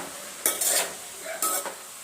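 Two short bursts of a spoon scraping and stirring cabbage fry in a heavy pan, close by, with a soft sizzle between them.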